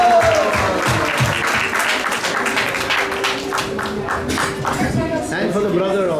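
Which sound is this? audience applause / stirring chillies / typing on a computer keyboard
audience applause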